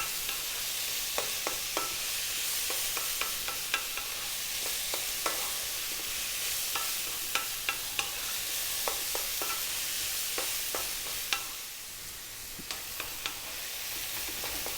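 Mixed vegetables for Mexican fried rice sizzle steadily in a pan over high heat, with a continuous frying hiss broken by frequent clicks and scrapes of stirring throughout.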